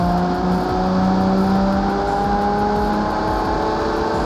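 Simulated car engine from the Automation car-building game revving up in sport mode, a loud continuous engine drone with rising pitch as it accelerates, steady throughout with no talking.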